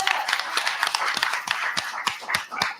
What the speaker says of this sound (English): For everybody, give them a round of applause